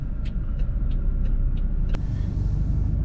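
A car pulls out of a parking space with a steady low engine rumble held close, a few faint ticking clicks above it and one brief sharp transient midway.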